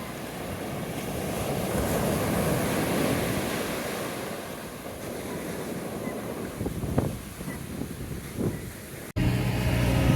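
Surf breaking along the beach at Ocean City, Maryland, a steady broad wash of waves with a northwest wind blowing spray back, rough wind rumble on the microphone throughout and a brief dropout near the end.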